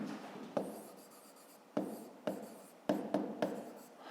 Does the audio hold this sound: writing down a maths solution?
yes